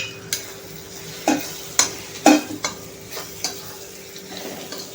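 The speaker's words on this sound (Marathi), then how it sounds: "हे छानपैकी असे तेलावरती मस्तपैकी फ्राय करून घ्या मसाले" Dry spices for Pune-style pav bhaji frying in oil in a pan, a soft sizzle under several sharp clinks and scrapes of a spoon stirring against the pan.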